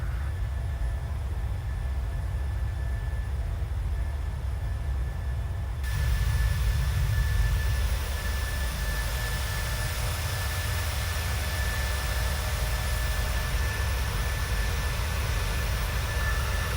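Steady jet engine roar from a Boeing 737-700 in Microsoft Flight Simulator 2020, a continuous broad hum with a faint whine that swells slightly after a few seconds and holds evenly.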